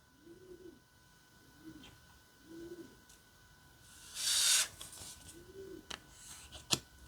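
A pair of pigeons nesting on a house roof coo in soft, low, repeated phrases, four or five rounded calls spread across the stretch, with a brief loud hiss of noise and a couple of sharp clicks in between.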